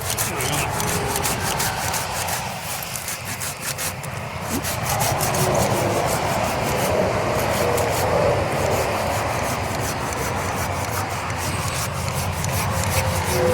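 Steady back-and-forth rasping of a saw through soft, crumbly wood, continuous and close for the whole stretch.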